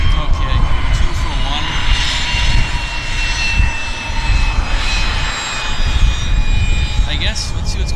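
Airplane engines roaring steadily during takeoff at Vancouver Airport, a loud continuous broadband rumble with a faint whine on top, people talking over it.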